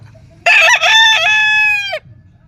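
A white-legged rooster crows once, close and loud, a harsh rising call that holds steady for about a second and a half before cutting off.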